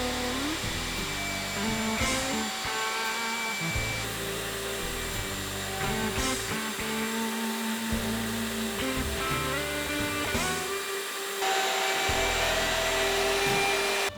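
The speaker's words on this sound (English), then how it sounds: "to make the end-grain mortises in the rails, I'm going to use my horizontal mortiser" A horizontal mortiser cuts end-grain mortises into wooden rails, giving a steady loud machine whine that shifts in pitch as the bit plunges and retracts in repeated cycles, alone without talk.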